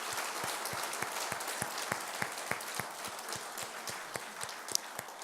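A church congregation gives a round of applause in praise of God, a faint, even patter of many hands with sharper individual claps standing out, heard from a distance under a low steady room tone.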